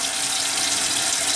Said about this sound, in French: je fais couler de l'eau bouillante